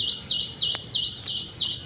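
A sparrow chirps outdoors in a repeated series of quick, high tweets at an even rhythm, fairly close and clear, with no talk over them.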